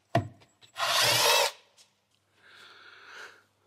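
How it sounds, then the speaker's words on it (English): Screwdrivers prying the back cover off a car ECU on an Audi with an AdBlue fault: a sharp scrape and clunk, then a loud grinding scrape, followed later by a fainter, longer scraping rub, close by. "you just use big screwdrivers there until it comes off"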